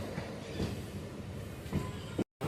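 A train rumbles past a blocked road crossing nearby with a continuous rolling, clattering noise and periodic thumps of wheels over the rails, briefly cut off at the end.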